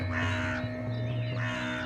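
Crows on a roof caw loudly and close by, two harsh calls in succession, with no voices.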